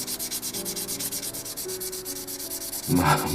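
A plastic part from a 1/48 F-4E Phantom II model kit is rubbed with 400-grit sandpaper, a steady rhythmic scratching of close strokes that grows louder and coarser toward the end.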